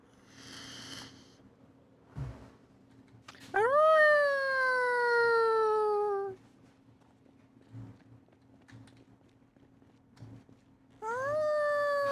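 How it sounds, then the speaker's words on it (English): A dog named Seda howls inside the video game Project Zomboid. Two long, wavering howls come through clearly, one sustained for about three seconds and a second starting near the end. Faint thuds are heard in between. "Seda, would you quit howling?"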